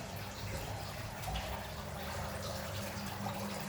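Water keeps trickling off freshly CNC-cut stone on a 1325 stone-cutting machine, a low, steady wash of running liquid with no breaks.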